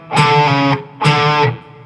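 A distorted electric guitar plays a riff: two sustained, heavily overdriven notes, each ringing about half a second with a brief gap between, loud and alone.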